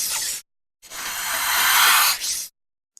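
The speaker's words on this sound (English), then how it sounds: "What sound does a snake make?" A snake gives a sharp, breathy hiss: a short burst, a brief silence, then a longer sustained hiss lasting almost two seconds, loud and close with nothing else heard.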